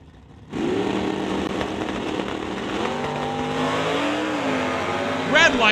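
Drag racing cars, a Stone Cold Racing Dodge Dart and a Lordco Auto Parts Chevy Camaro, burst into a loud engine roar after a brief quiet start, revving with rising and falling pitch. A final sharp squeal comes at the end, with a commentator's voice mixed in.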